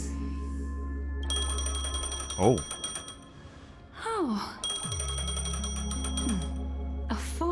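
A phone rings in the video game Honkai Star Rail as a loud, rapid electronic trill in two long bursts separated by a short pause, with sliding game tones and a voice's brief exclamations layered over it.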